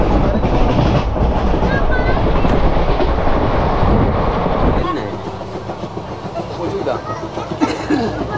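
Doon Express train rumbling with clickety-clack, loud and close for the first half then quieter, with a voice talking over it.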